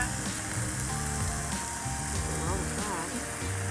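American Wagyu beef sizzling in a nonstick pan outdoors, a steady close frying hiss running under people talking, with a low hum in the background.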